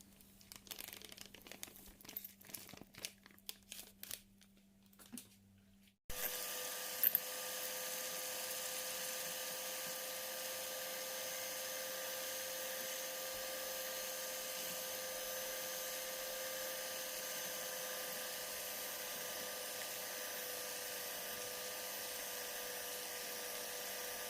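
A mixer whips cream powder with milk and sugar for an avocado-banana juice topping: a steady, loud motor whir starts abruptly after a few seconds of light clatter and runs on unbroken to the end.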